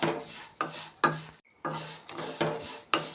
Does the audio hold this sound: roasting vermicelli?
yes